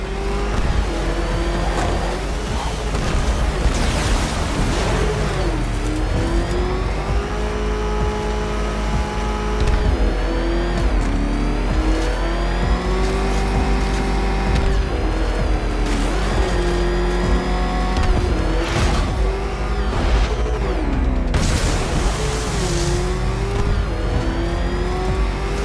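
The Batmobile's engine in Batman: Arkham Knight roars steadily and loudly throughout, its pitch rising and falling with repeated revving and acceleration, with no talking over it.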